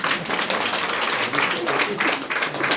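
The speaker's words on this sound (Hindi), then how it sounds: "सही हो गया बोला मैंने, जोरदार ताली" Audience applause at a quiz-style event at a Buddhist vihara in Pulgaon, steady dense clapping throughout, close and fairly loud.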